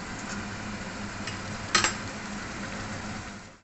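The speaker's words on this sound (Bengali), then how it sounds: "এই বাটা পেঁয়াজটা একটু আমি ভেজে রেজে নেব, হালকা হালকা ভাজবো, বেশি ভাজবো না" Ground onion paste frying lightly in oil in a pan, a soft steady sizzle with a brief clink of a utensil against the pan midway, no voices.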